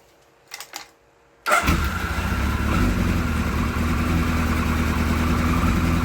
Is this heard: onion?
no